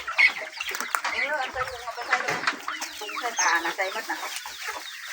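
Backyard chickens at a rural Thai family home cluck and chatter continuously and close by, a busy, overlapping stream of short clucks and squawks.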